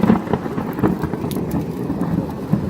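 Steady rain falling during a storm, with dense close patter and faint low rumbles underneath throughout, no voices.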